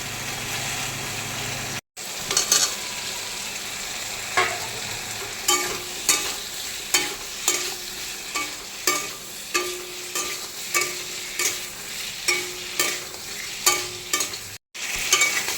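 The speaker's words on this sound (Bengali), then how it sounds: "এবার দিয়ে দেবো ভেজে রাখা আলু পটলগুলো।" Previously fried potatoes and pointed gourd tossed into hot oil in a pan, a steady sizzle with regular scraping strokes of a spatula roughly every half second, close and fairly loud, with brief cuts in the sound.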